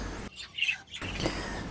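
Budgies chirp with short high tweets in an indoor birdroom, faint and brief, heard alone without talk over a soft background.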